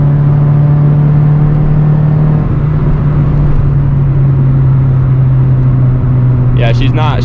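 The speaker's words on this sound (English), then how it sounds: "This is pedal to the metal hauling right now in 4th gear." A Honda Integra accelerates at full throttle in fourth gear, its engine a loud, steady droning rumble that climbs gradually in pitch, with a brief voice near the end.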